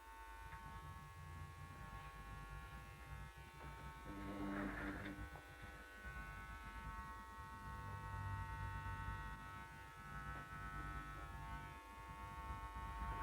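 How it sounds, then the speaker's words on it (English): An electric hair clipper buzzes steadily while cutting hair at the nape, a close, continuous hum with slight variations as it moves up and out, with no talk. "Hold the clipper against the nape and up and out."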